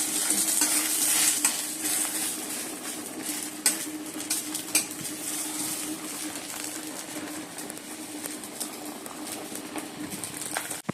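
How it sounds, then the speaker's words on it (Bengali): Eggs frying into omelettes in a pan, a continuous crackling sizzle close by, with intermittent scraping and clatter of utensils and a faint bird cooing in the background. "আর এদিকে ডিম মামলেট করে নিচ্ছি।"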